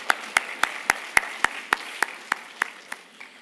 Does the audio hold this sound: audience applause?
yes